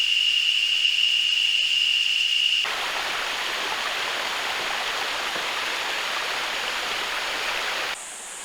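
Steady rushing water of a river in Costa Rica, heard from a dinghy heading upstream, a loud even hiss throughout, with a high whistling tone over the first few seconds and a brief shift near the end.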